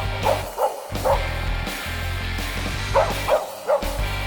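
A herding dog barks at cattle in short bursts, several sharp yips in two clusters, close by, over a steady low rumble of outdoor noise.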